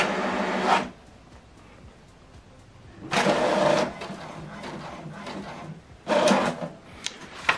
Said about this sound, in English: select continue to print the second page.